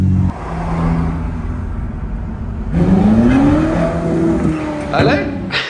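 A supercar engine fires up on a Beverly Hills street in Los Angeles, a deep rumble that swells into a rising rev partway through, loud and close, with a voice speaking over it.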